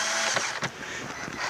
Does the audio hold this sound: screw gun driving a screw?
yes